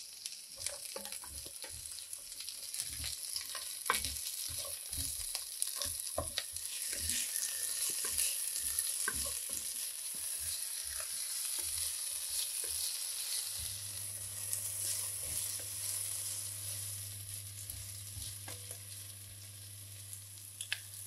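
Onion, carrots and celery fry in a pan for osso buco, a steady sizzle with occasional stirring clicks, and a low hum joins partway through.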